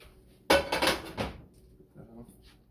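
A metal pan that held melted butter is set down in a home kitchen: a sharp clanking impact followed by rattling clinks that fade within a second, then quieter small knocks.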